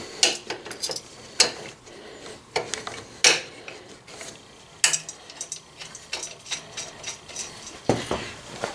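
Metal Allen bolts being started and threaded into a lower crash bar mount on a Honda Africa Twin CRF1000L motorcycle, with sharp ratcheting clicks and metallic taps coming in irregular bursts, close and fairly loud.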